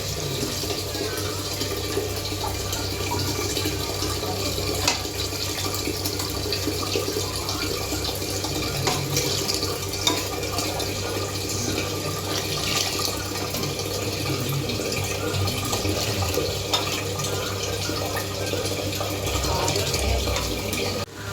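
Steady rushing and splashing of eight glasses of water poured continuously into a pot for chicken biryani, a constant broadband stream lasting throughout with no pauses.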